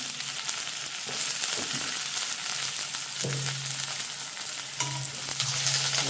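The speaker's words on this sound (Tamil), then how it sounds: "எல்லாம் போட்டு வதங்கணும்." Fennel seeds and curry leaves sauté in a hot pan in a home kitchen, giving a steady crackling sizzle throughout with a few louder pops and stirring scrapes, up close and with no talk.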